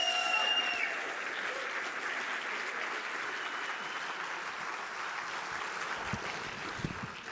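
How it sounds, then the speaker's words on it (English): An audience at the opening ceremony of a seed industry congress applauds in a soft, distant, continuous wash of clapping, with a brief tone and a few louder claps near the end. "A really heartfelt applause."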